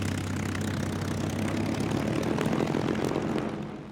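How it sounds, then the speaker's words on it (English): American WWII carrier planes roar with a steady, droning propeller engine noise that swells slightly and then fades at the end. "A large contingent of American carrier planes took off to engage the Japanese battle fleet."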